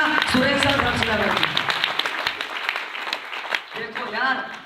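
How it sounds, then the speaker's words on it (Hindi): Audience applause at a company motivational talk, clapping of a crowd running under continuous loud speech throughout. "जोरदार तालियां"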